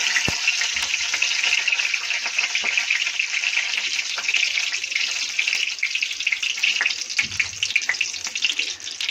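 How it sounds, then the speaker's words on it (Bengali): Curry leaves sizzle and crackle in hot oil with dried red chillies, a steady close frying hiss with scattered sharp pops throughout. "এখন কারি পাতাটা ছেড়ে দিলাম।"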